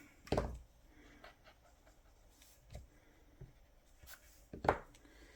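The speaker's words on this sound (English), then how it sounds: "And then I'm going to erase" An eraser rubs over a pencil drawing of a fox and frog, giving a few short, scratchy scrubbing strokes with quiet pauses between them, close but faint.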